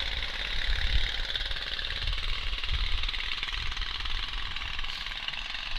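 Lawn tractor racing engines with open exhausts rattle loudly and continuously at an outdoor track on wet ground, a harsh, rapid hammering drone that stays steady.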